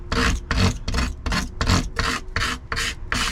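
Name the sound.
sanding carbon fibre edges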